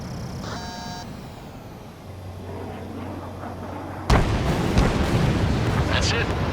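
A missile strike downs an enemy bomber in the Ace Combat 7 video game, a steady engine drone suddenly breaking into a loud, sustained explosive roar and crackle that carries on through the rest of the moment.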